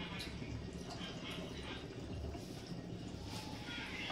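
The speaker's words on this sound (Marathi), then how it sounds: "आता आपण अर्धा तांब्या पाणी टाकूया." Half a tumbler of water poured into a pan of paneer tikka masala gives a steady, dense liquid rush that fills the whole moment without a break.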